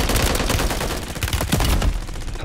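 Rapid automatic gunfire from the video game Call of Duty: Warzone rattles in dense, continuous bursts, loud and close, with no talk over it.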